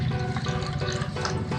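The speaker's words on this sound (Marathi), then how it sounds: "यामध्ये पाणी भरून घ्या," Water pours steadily into a container, a continuous close gurgling fill with no talking.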